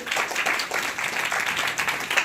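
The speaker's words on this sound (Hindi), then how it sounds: "ताली बजाएंगे" Church congregation clapping together, a dense steady patter of many hands filling the room at moderate loudness, unbroken for the whole stretch.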